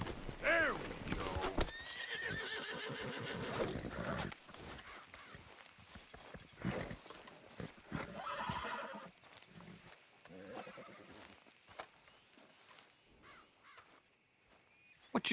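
Horses whinnying and hooves clip-clopping at a horse trading spot in Red Dead Redemption 2, a loud neigh near the start and steady hoofbeats throughout, with game characters talking over them.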